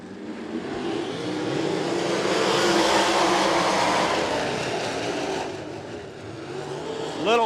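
Sprint cars roar around a Benton County Speedway dirt oval in a heat race, a loud sustained engine drone swelling and fading as the pack passes, with crowd and track ambience behind.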